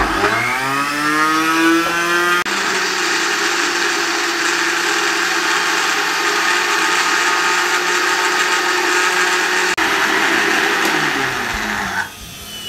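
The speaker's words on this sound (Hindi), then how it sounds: "अब इस सब चीज़ों को हम अच्छे से ग्राइंड करने लगे हैं" A blender grinds semolina, oil and milk for a mango cake, a loud steady whirring drone that starts with a rising whine, holds for about twelve seconds, then cuts off abruptly.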